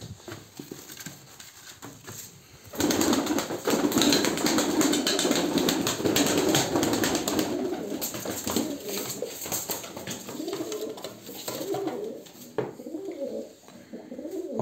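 A flock of tumbler pigeons, mostly birds that fly and play, coos and stirs outdoors at moderate distance, with soft wing flaps and a steady low murmur of cooing throughout.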